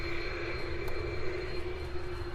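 Two F-22 fighter jets departing at sunset in Hawaii, a steady distant jet roar with a droning tone that holds level throughout.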